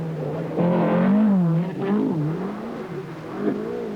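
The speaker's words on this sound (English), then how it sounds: "Mikkola, spending more time in the air than on the ground, is 2 seconds slower than the Porsche" A rally car engine at the 1973 1000 Lakes Rally in Finland, revving hard with rising and falling tones as the car accelerates, loud and fairly close.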